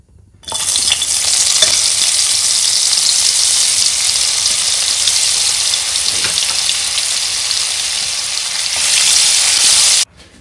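Crushed garlic cloves fry in butter in a pan, producing a loud, dense, continuous sizzle that starts abruptly and holds steady for about nine and a half seconds before cutting off.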